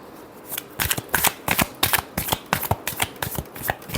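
Tarot cards being shuffled up close, a loud run of quick crisp riffling flutters repeating steadily for several seconds without talk.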